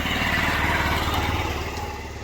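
Motorcycle engine idling on a solo ride in the hills of Dhading, Nepal: a steady, close, rumbling drone that holds evenly and fades slightly toward the end, with no talk.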